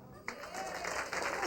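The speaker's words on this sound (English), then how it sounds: "And a warm round of applause for Dr. Pamela Yee on the arm of Eric Dellen" Wedding reception guests at L'Auberge Del Mar in San Diego break into applause as bridal party members are introduced; clapping starts abruptly after a brief quiet moment and carries on as a steady, moderate patter of many hands.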